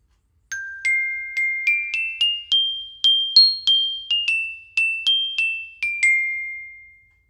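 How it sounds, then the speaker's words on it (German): A glockenspiel, a metal-bar percussion instrument, played alone with about fifteen bright ringing struck notes in a steady, slightly uneven rhythm, each note decaying briefly before the next, rising and falling in pitch. "auch mit Metallplatten, das Glockenspiel."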